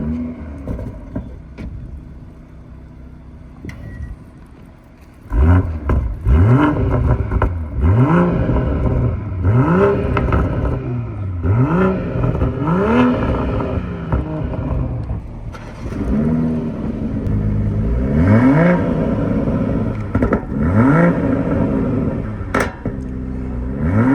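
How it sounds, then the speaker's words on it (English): A BMW M340i engine starts and then revs hard several times, each burst climbing and falling in pitch, loud and close through the exhaust. "the exhaust sound"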